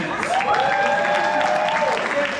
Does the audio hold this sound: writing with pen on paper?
no